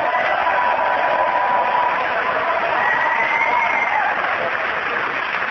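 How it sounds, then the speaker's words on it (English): Studio audience applause and cheering on a comedy panel game show, a dense, loud, sustained burst of clapping and whoops with no talking. "I've never heard anybody finish in fourth place and get a bigger cheer than that"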